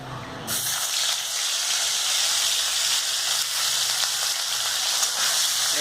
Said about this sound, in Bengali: মাছটা ভাজা হচ্ছে